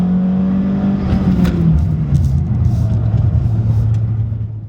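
A loud Honda Civic Type R engine drones low while braking in a straight line, then its pitch drops and climbs again in a quick heel-toe downshift blip, staying close and steady throughout.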